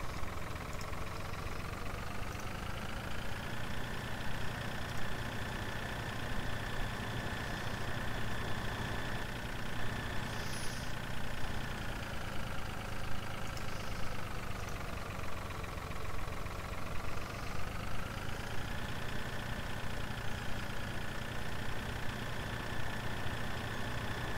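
Tractor engine in a farming simulator running steadily while driving, a continuous mid-pitched drone with a faint rise and fall in tone, close and alone throughout.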